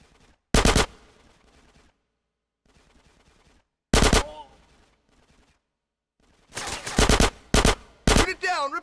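Loud bursts of machine gun fire from GTA San Andreas Definitive Edition come in separated volleys: short rattles early on, then a denser run of rapid shots near the end, with quieter game noise and faint voices in the gaps.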